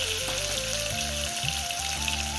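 Sliced shallots hitting hot oil with cinnamon and cloves for a mutton head gravy make a steady crackling sizzle, partly blended with background music.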